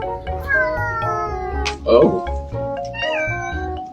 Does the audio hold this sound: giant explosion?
no